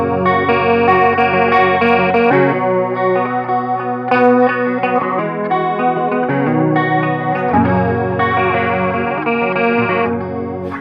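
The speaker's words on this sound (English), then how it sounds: "we turn off the distortion, go up to this neck pickup here, and then we do a little bit of arpeggiation" Clean electric guitar on the neck pickup with a chorus effect, distortion off, playing sustained ringing arpeggiated chords in the bridge of a song, loud and close with no speech.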